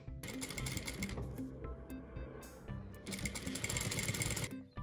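Sewing machine stitching crazy-patchwork fabric pieces together, a steady close whirring run that pauses briefly midway and then resumes for a second burst, with no talk.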